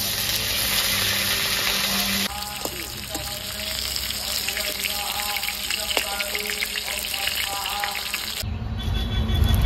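Spice paste sizzling as it hits hot oil in a home kitchen while meat curry is being made, a steady frying hiss with clinks and some background noise, fairly close and continuous.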